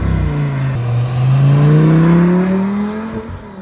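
Audi R8 V10 Spyder R-Tronic engine blipping and revving through downshifts, a loud, close, continuous rising howl with one brief dip, with no talk over it.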